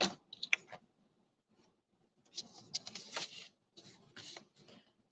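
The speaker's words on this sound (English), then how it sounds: "let me get my cutter out," A paper trimmer's blade clicks and slides across a card base in a few short bursts separated by quiet, close and fairly faint, with no talking.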